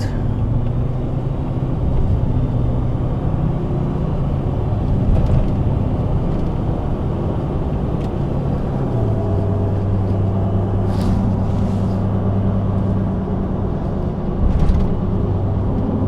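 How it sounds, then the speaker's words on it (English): A truck on a test drive, its engine droning steadily and loud with a low rumble, the pitch shifting as it changes gears. "It's shifting a lot better than before."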